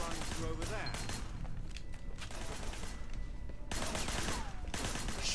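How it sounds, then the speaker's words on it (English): Gunfire from shooting at enemies in Sleeping Dogs, dense bursts of rapid shots filling the clip loudly, with a short lull midway before heavy firing resumes. "Shooting at the guys."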